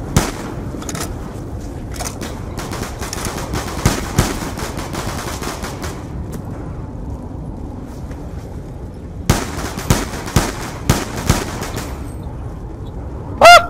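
Bursts of rapid M14 rifle gunfire in Call of Duty Black Ops II Zombies, Nuketown, crack repeatedly, some in fast strings and others as single shots, with quieter gaps between the volleys.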